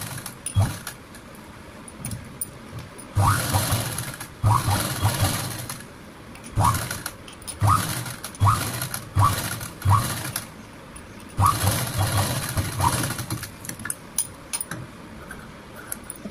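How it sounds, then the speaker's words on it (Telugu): Sewing machine stitching the back neck of a blouse, running in several short bursts of a few seconds each with pauses between, close and moderately loud, with some speech-like sound between runs. "షేప్ చేసుకుంటూ స్టిచ్ చేసుకోవాలి."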